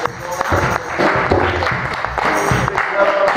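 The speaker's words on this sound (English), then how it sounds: "let's clap those hands together for the" A church congregation claps their hands together in steady, loud applause that fills the room, carrying through the whole stretch without pause.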